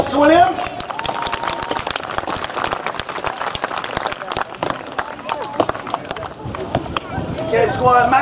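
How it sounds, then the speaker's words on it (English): Crowd applause with sharp scattered claps rings out at a medieval combat re-enactment at Arundel Castle, steady and fairly loud across the clip, with a voice talking over the start and end. "so a round of applause to William."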